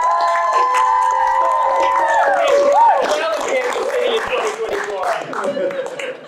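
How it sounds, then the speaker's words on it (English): An improv comedy audience claps, cheers and whoops loudly for the red team, with shrill whistles and excited shouts rising over the steady applause before it tapers. "Applause for the red team."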